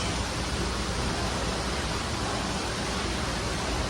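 Indoor waterfall in a large Bass Pro outdoor store, a steady, dense wash of falling water, loud and unbroken throughout with no distinct voices.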